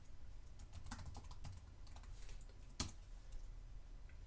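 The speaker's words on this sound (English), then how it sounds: "Another example is you can type in the county name." Rapid clicking of keys on a computer keyboard as a county name is typed into a parcel map search, a quiet, steady run of soft taps with one sharper click near the end.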